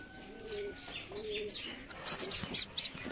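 Caged pigeons cooing softly in a loft, their low rolling coos repeating under sharper chirps and faint rustling close by.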